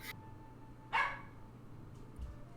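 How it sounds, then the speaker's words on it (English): A dog barks once from down a hallway, a single short muffled bark well in the distance over a quiet room. "Bark. There's a dog down the hall."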